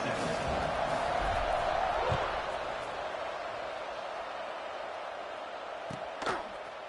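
A football stadium crowd at an ODU versus Washington State game keeps up a broad, sustained buzz after a score, loud at first and then easing to a steady distant roar, with a thump near the end.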